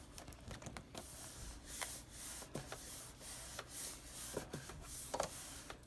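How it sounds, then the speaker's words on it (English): Cricut cutting machine loading material, faint mechanical whirring with soft clicks and rubbing ticks at close range, no talking. "you press this button right here, the flashing button, to load it in."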